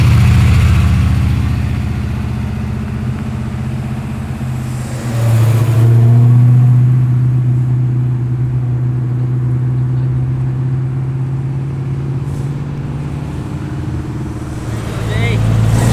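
An orange Ford Mustang and an SS Nova muscle car pull away from a large car meet with deep, rumbling engine revs that swell and fade, while people talk nearby.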